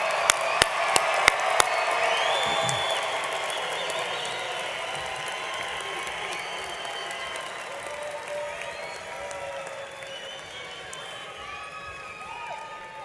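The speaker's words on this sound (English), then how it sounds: "Let's give them a round of applause." Graduation crowd at the Mountain View High School class of 2022 ceremony applauds in a broad, sustained wash of clapping and cheering, a few sharp claps standing out at the start before the sound eases slightly.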